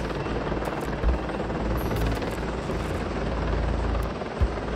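A CH-53E Super Stallion heavy-lift military transport helicopter runs with a continuous, loud rotor roar and turbine rumble. Faint blade thumps pulse through the sound, and no one speaks.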